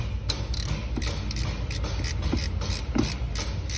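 A ratchet wrench turns a bolt on a 2017 Infiniti QX70 in an auto shop, producing several quick bursts of close, crisp clicking in an uneven rhythm over low background hum.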